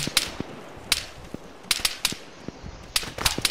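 Irregular gunshots in Arma 3: crisp, snapping reports fire singly and in quick pairs, some close and punchy, others softer and distant, with no talking.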